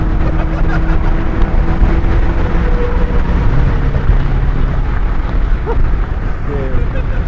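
A high-mileage Mazda Miata, about 220,000 miles, runs steadily on a drive, a loud continuous engine drone with road rumble that holds throughout, faint voices occasionally under it.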